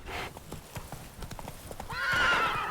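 Hooves clip-clop steadily as a horse gallops in The Witcher 3, closing with a loud, drawn-out neigh; faint talk sits underneath.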